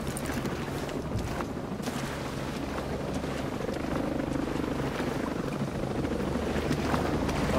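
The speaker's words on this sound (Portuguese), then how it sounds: "os drones que estão vindo" Military drones approach in the video game Ghost Recon Breakpoint, a steady droning rotor whir mixed with wind, holding constant and growing slightly louder with no talk over it.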